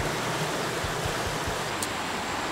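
A river flows beside a roadside stop, a steady broadband rush of water with faint low knocks, moderately quiet and without talk.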